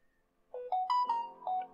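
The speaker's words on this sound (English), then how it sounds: "Sorry, that was my phone going off." A phone ringtone plays a short melodic sequence of clean electronic tones, stepping up and down in pitch, loud and alone against silence.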